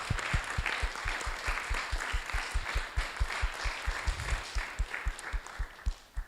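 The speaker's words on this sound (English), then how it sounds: "we need to all applaud them for that" Audience applause at an ESN association year-end event, steady clapping from a moderately sized crowd with sharp individual claps standing out close by, continuous throughout.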